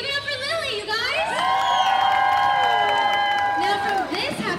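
A stadium crowd at the Kentucky Kingdom Sea Lion Splash show in 2021 cheers loudly and steadily, with shrill children's shouts and whoops layered over the roar for several seconds.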